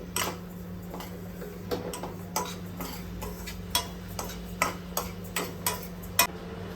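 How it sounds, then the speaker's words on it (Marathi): Roasted sesame seeds scooped from a pan with the gas off: irregular metallic scrapes and light clinks of a utensil against the pan, close and distinct, over a steady low hum. "मी गॅस बंद करते आणि आता हे तीळ काढून घेते"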